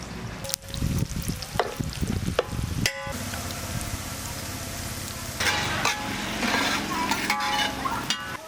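Onions fried with coriander, mint and fenugreek leaves for a Telangana mutton curry, a dense crackling sizzle with repeated stirring scrapes and clinks, growing louder and busier toward the end.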